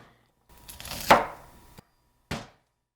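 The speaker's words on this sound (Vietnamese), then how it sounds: "đập dập 1 nhánh gừng và 1 củ hành tím nữa" Two sharp blunt thuds on a cutting board, the first followed by a short scraping crunch, as a piece of ginger and a shallot are smashed flat in a home kitchen; no talking.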